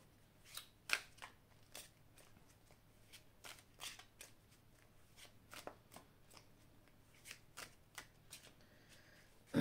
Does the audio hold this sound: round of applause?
no